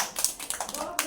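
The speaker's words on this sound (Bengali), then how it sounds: "আচ্ছা সবার জন্য একটা হাততালি দাও।" A few scattered hand claps from young children in a preschool classroom, brief and uneven beneath a teacher's talking.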